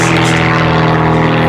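Propeller airplane with a flat, horizontally opposed 360 cubic inch engine at an air show, a loud steady droning hum with a low throbbing tone, close by and continuous with no talk.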